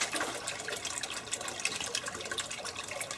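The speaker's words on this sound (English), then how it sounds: "the water is going to come down to a certain point, and then it'll stop. And then fill back up." Hydroponic system water draining down and refilling, a close, steady gurgling trickle and splash of liquid running throughout, with no talk.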